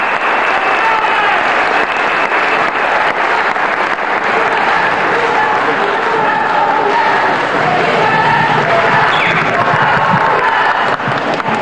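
Sustained, dense applause fills a hall at a ceremony swearing in ministers under President Nicolás Maduro in Venezuela, a steady loud roar of many hands clapping with some cheering mixed in, unbroken throughout.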